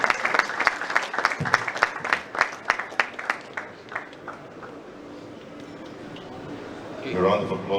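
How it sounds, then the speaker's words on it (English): Audience applause after a talk at LAF 14.0 in Lagos, opening with a burst of distinct claps that thin into scattered clapping, then a quieter stretch with faint voices before rising crowd noise at the end. "A round of applause for our speaker once again."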